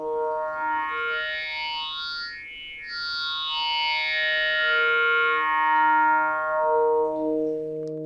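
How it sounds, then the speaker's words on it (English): Arturia MicroFreak synthesizer in vocoder mode with very narrow filter bandwidths, giving a glassy, bright sustained tone with sweeping harmonics that dip and rise, played alone without talk. "setting the bandwidths very narrow, you get more of what I think of as sort of a glassy sound"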